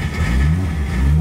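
A Nissan 350Z's engine revs as the driver accelerates during a drift attempt, a steady, close, mid-pitched roar with no talk over it.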